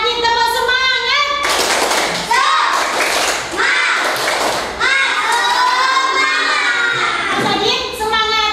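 Children in a classroom doing a rhythmic clapping chant, bursts of group clapping and thumps mixed with kids shouting and chanting loudly together, close and lively.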